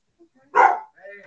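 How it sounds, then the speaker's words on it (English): A dog barks in greeting toward people, giving one loud, close burst of a bark with a few softer yips and whines before and after. "her way of saying hi to people is hi, bark, bark, pet me, bark, bark, let me be your friend"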